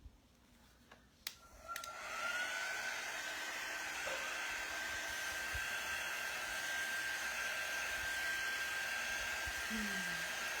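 A hair dryer switches on after a few brief knocks and then runs at a loud, steady roar for the rest of the clip, close to the listener, with no talk over it.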